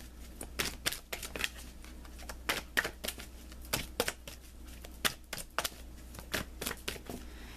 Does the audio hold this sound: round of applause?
no